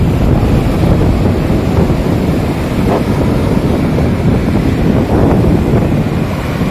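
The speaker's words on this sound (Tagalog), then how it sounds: "lalo na pong bumibilis ang hampas ng mga alon po dito sa dalampasigang ito," Steady roar of surf breaking along a shore, loud and continuous, with gusty wind rumbling over the microphone throughout.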